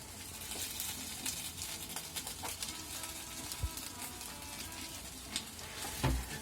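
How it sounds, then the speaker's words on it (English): Onion and pink sauce cook together on a grill, giving a soft, steady sizzle with light watery spatter and a few scattered clicks, fairly quiet and unaccompanied by voices. "we put the onion too in the grill. And put with the onion the pink sauce."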